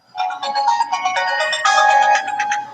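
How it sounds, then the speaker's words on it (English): A mobile phone rings nearby with a loud melodic ringtone, a bright run of chiming notes that plays for nearly three seconds with no talk over it. "Must be Steve's phone."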